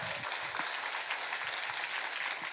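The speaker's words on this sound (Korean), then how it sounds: "박수로 영광 돌립니다" A church congregation applauds during a sermon, a dense continuous wash of clapping at steady loudness, with no talk over it.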